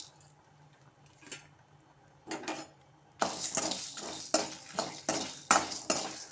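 Whole dried red chillies, coriander seeds, cumin, fennel, cinnamon, cloves and cardamom dry roasting in a pan: quiet at first, then a spoon scraping and stirring in bursts, with rattling clinks growing louder toward the end.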